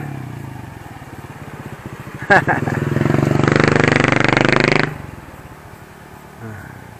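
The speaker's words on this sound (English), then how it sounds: "this is a hangout for the local boys racing their back motorbikes up and down" A local boy's motorbike, raced up and down a village road in Ban Ta Klang, Thailand, snarls loudly past close by, revving hard for a couple of seconds before dropping back to a low idle putter.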